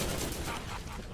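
A rocket launcher fires at very close range in the video game Borderlands, giving a brief, loud burst of blasts in quick succession with no talk over it.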